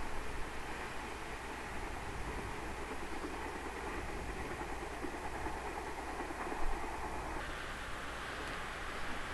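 A JNR-era train with a bonnet-type lead car and 200-series cars runs on the Hokuriku Main Line near Isurugi in 1983, giving a steady, even rolling rumble with a soft hiss and no voices.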